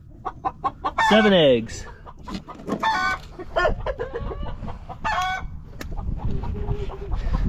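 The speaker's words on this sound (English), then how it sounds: "And that chicken was in the middle of laying eggs, so she's mad at me." Chickens in a coop cluck and squawk loudly and close, one hen letting out an agitated drawn-out cackle, with busy scratching and rustling throughout and a person speaking briefly.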